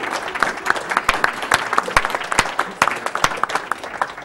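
Applause from an in-person audience at a live Halo 2 speedrun charity marathon (AGDQ 2014), steady dense clapping with a few sharper claps standing out, filling the room continuously.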